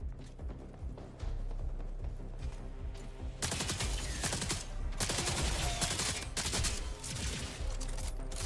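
Rapid gunfire from the shotgun in the video game Jump Space, a dense run of sharp overlapping shots that grows louder and busier partway through, close and continuous with no talk.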